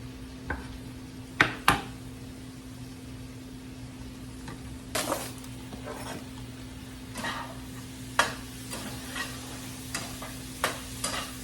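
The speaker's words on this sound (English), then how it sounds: "once you get those tomatoes in there, give this all a stir and let it cook down" Spaghetti squash, spinach and tomatoes cooking in a pan, with a steady low sizzle under scattered scraping taps of a utensil stirring, close and fairly quiet, no talking.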